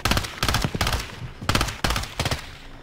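Rapid bursts of AUG assault rifle fire in a first-person shooter video game, several sharp loud volleys in quick succession with short gaps between them and no talking.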